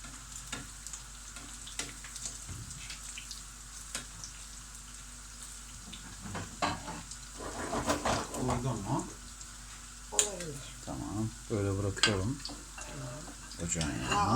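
Small köfte meatballs sizzle and spit in a pan as they are turned, with scraping stir sounds and clinks rising over a soft hiss, while people talk nearby.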